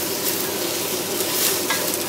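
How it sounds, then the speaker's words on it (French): Pieces of beef sizzle steadily in a hot stewpot for a beef bourguignon with onions, a constant close frying hiss with no talking. "On peut commencer à déposer les morceaux de viande petit à petit. On les place au fond de notre faitout."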